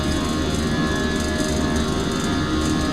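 Airliner jet engines spooling at takeoff thrust on the runway, a loud, steady broadband roar with a low rumble that holds constant throughout, heard from inside the aircraft with no voices.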